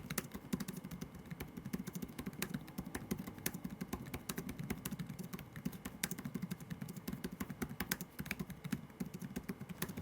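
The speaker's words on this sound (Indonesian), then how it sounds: "Buat feel ngetiknya sendiri di keyboard ini kerasa empuk dan tactile dengan bunyi yang nggak terlalu berisik." Steady, rapid typing on an Acer Spin 3 laptop keyboard with soft, muted tactile clicks in a continuous rhythm, close by, with no voices.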